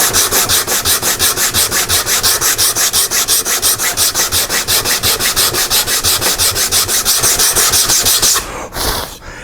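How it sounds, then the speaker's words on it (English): Hand sanding of a wooden guitar-neck scarf joint with 120 grit sandpaper on a flat block: loud, steady back-and-forth rasping strokes in a fast even rhythm, close up, stopping near the end. "I'm going to take a piece of 120 grit sandpaper and a flat block, and I'm going to sand this out"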